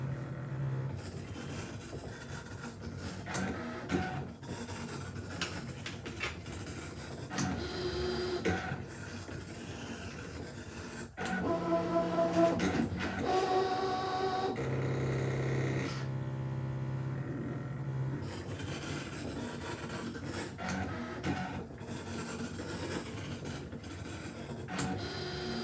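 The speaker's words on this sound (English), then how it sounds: "So press start and then let the machine hopefully cut these out for me." A ScanNCut cutting machine cuts appliqué shapes out of felt with a steady mechanical whir, shuttling motor buzzes and brief tonal whines as the carriage moves, close and continuous throughout.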